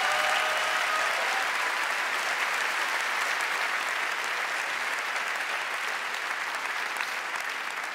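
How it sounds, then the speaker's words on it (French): A comedy-show audience at Montreux Comedy bursts into thunderous, sustained applause welcoming Julien Courbet, a loud, dense wash of clapping and crowd noise that holds steady throughout. "Un tonnerre d'applaudissements pour Julien Courbet"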